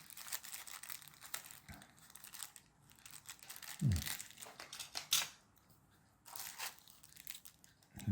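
A resealed plastic bag of SMD resistors being opened, with crinkling and crumpling plastic in several bursts and a few sharper tearing crackles, close and fairly quiet, no voices.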